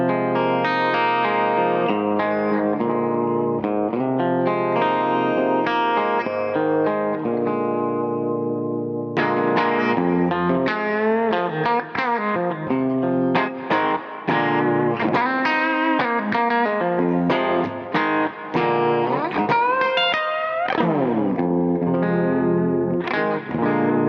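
A Gibson Les Paul Custom with figured top, played through its bridge pickup with heavy distortion, rings out loud chords and riffs continuously with sustained notes and quick runs, no talk over it.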